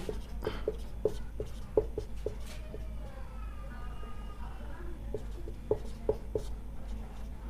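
Marker or chalk writing a place name on a classroom board, a steady run of close tapping and scratching strokes over a low room hum, no talk.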